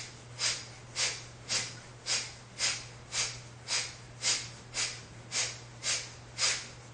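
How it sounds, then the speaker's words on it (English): Kapalabhati yoga breathing with about thirteen sharp, forceful nasal exhales at a steady rhythm, each a short hissing burst, close and alone over a low constant hum. "Let's try some Kapalabhati breath."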